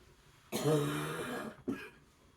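A drawn-out, raspy cough close by, then one short sharp cough, with quiet before and after.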